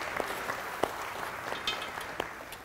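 Scattered claps from a few people in a restaurant kitchen, sparse and uneven hand claps over a quiet background hiss, praising a cook's sandwich.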